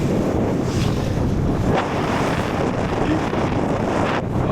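Strong wind rushes at the Val Thorens ski resort, a loud, continuous roar buffeting the microphone with steady gusts and no pauses throughout.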